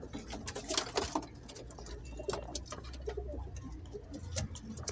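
A domestic pigeon, a hen recovering from calcium-deficiency rickets after laying eggs, coos softly and repeatedly nearby, with light fluttering and scratching sounds in a quiet loft.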